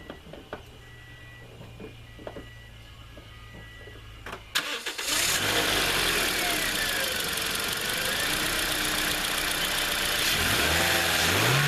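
A 2009 Toyota Corolla engine cranks and fires up just after a new fan belt is fitted, then settles into a loud, steady idle with a faint rising belt whine; no one talks.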